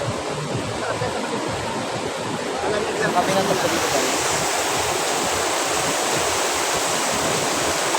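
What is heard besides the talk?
rushing river water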